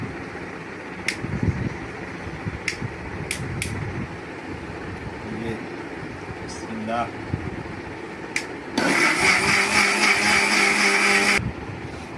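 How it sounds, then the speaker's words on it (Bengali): An electric blender whirs at high speed on mango juice for about three seconds, loud and close, after a stretch of kitchen clatter and faint talk. "আমরা এখন এটা ব্লেন্ডার করবো"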